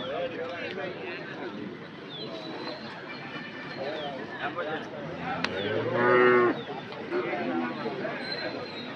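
Cows at a cattle market in Anthiyur lowing repeatedly, one loud close moo standing out midway, over a busy din of people talking and bargaining.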